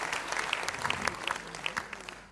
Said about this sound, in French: Vous pouvez applaudir Martine, s'il vous plaît.